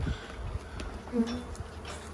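Bees swarm and buzz steadily around a hive being cut out and removed. The drone is faint and continuous with a few louder passes as individual bees fly close, and no one speaks.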